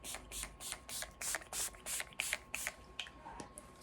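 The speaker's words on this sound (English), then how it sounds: "spray that all over my face, and I kind of let that soak into my skin" Urban Decay All Nighter setting spray mists onto a face in about a dozen quick, evenly spaced pumps, each a short close hiss, with no talking.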